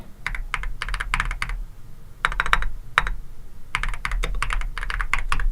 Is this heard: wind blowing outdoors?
no